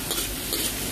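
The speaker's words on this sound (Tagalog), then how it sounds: "Ilagay natin ang ating bawang." Garlic sizzling in hot oil in a pan at the start of a carbonara, a steady close frying hiss with faint stirring and no talk over it.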